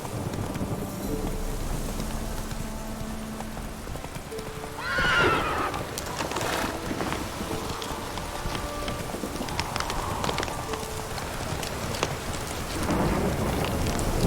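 Roach, a horse in The Witcher 3 on PC, gallops with steady clip-clop hoofbeats and gives a loud whinny partway through, all over a backdrop of rain and distant rumbling thunder.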